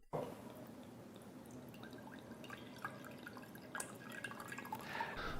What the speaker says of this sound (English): So we put water.